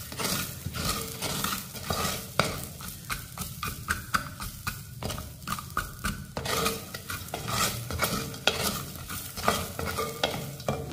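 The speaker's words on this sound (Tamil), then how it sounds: "எல்லாத்தையும் நல்லா வதக்கிக்கிடுவோம்." Onion, curry leaves and green chillies sautéing in a pan for a weight-loss lunch, with steady stirring scrapes and a continuous sizzle throughout, close and fairly loud with no talk.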